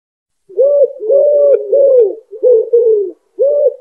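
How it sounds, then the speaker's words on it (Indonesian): A pigeon coos repeatedly in soft, low, rounded phrases, a steady series of mellow calls close by in otherwise quiet surroundings. "Merpati"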